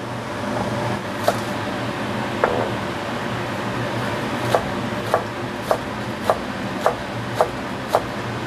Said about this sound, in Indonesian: Jahenya tak iris tipis-tipis, ini cukup 4 lembar aja ya